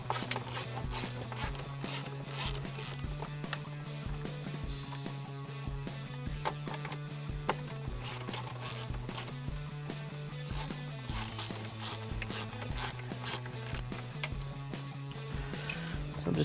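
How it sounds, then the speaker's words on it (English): A hand ratchet clicks in a steady, close rhythm while backing out two 10mm bolts from a grab handle inside a Jeep Wrangler JL, with no talking over the repeated clicking. "I'm going to remove the 2 10mm bolts here."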